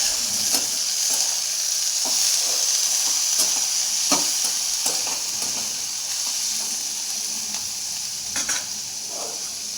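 Washed flat val bean pods with a pinch of turmeric sizzle steadily in a hot pan, a constant frying hiss broken by occasional scrapes and clinks of stirring, with no talk.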